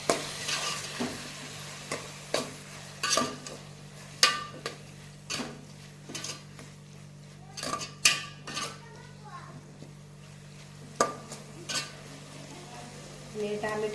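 Pav bhaji mixture being stirred with salt in a metal pan, a spoon scraping and clinking against the pan in irregular knocks over a low steady hum and faint sizzle.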